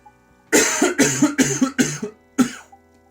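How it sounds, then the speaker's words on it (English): A burst of about five harsh, close coughs in quick succession, a brief pause, then one final cough. "And I'm going to cough again."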